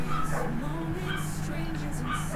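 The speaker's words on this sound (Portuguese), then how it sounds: "A gente tem aqui alguns cachorros, a gente tem aqui uns pinches que latem" Small pinscher dogs bark and yip in short, sharp bursts at a house, mixed with a talking voice and fairly close.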